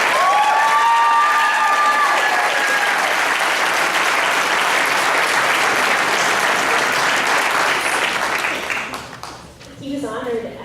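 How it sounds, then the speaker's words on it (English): A school board meeting audience breaks into a loud, sustained round of applause that fills the room, then thins and tapers off near the end as a voice returns. "That deserves a round of applause."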